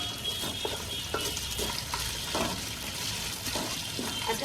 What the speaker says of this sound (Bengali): এই দেখো পেঁয়াজটা পুরো বেরেস্তার মতো করে করে নিল একদম লাল লাল